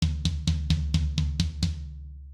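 A Slate Trigger tom sample from a drum kit is struck eight times in an even, steady rhythm, each hit booming and resonant with a deep sustained tail, the final one ringing out and fading.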